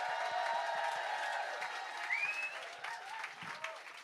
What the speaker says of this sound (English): some cheering and welcome stage the fantastic Sarah Roberts.